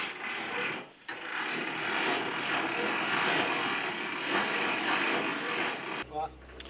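The landing legs of an HGV lorry trailer are wound by hand crank, making a continuous close grinding and ratcheting with a brief pause early on and a short break near the end.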